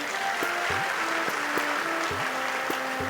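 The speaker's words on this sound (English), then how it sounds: "Can we give a big round of applause for that?" Applause from the audience at an India Day celebration, a steady, moderately loud bed of clapping that runs throughout, with faint tonal background sounds mixed in.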